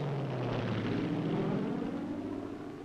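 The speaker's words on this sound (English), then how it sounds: "This continues until all the planes in the formation have made their drops." Several propeller airplanes fly in formation during a military cargo drop, their steady engine drone loud and continuous, fading slightly toward the end.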